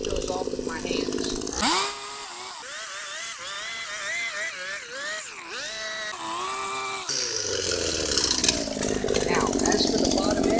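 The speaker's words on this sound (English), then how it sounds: "all I'm going to do for that is put my trimmer under the edge about a 45-degree angle" A hedge trimmer cuts along a boxwood hedge, its motor whining and changing pitch as the blades bite, loud and close, with someone talking over parts of it.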